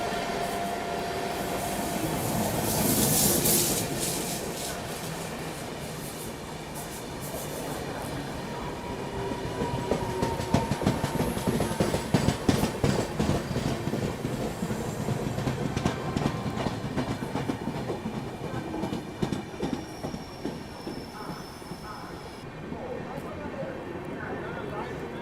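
A train rolls along the Patna to Hazrat Nizamuddin route while another train overtakes it, with continuous close rumble and rhythmic clickety-clack of wheels over rail joints, and voices talking now and then.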